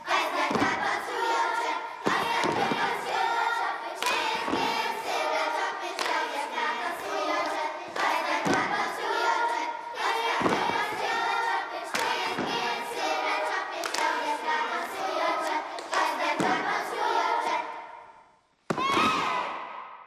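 A school children's choir sings while clapping hands and stamping feet in time to a song, sharp rhythmic claps and thuds punctuating the singing and ending with one final clap after a short pause.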